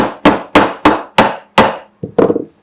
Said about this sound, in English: So now we can go ahead and finish driving the pin.